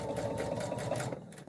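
Sewing machine running steadily while stitching a quilt block seam, a continuous close mechanical whir with a fast stitching rhythm, slowing near the end as it backstitches.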